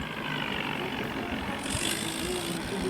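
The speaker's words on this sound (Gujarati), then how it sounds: "ટ્રેક્ટર ફસાઈ ગયું છે." A tractor stuck in a farm field runs its engine continuously, a moderate steady rumble without clear revving changes, heard in the open air.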